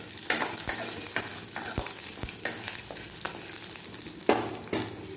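Small chopped coconut pieces sauté in hot oil with a steady close sizzle, broken by scraping stirs and a few sharp clacks of a spoon against the pan.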